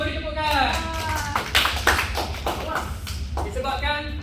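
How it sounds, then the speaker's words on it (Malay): Classroom applause from a group of students clapping together for about four seconds, a steady dense patter of hands with a few thumps, close and fairly loud. "bagi semua beri tepukan"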